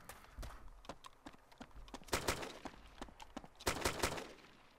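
Gunfire in the video game Arma II, a rapid run of sharp shots and short bursts, fairly quiet and distant, with no talking.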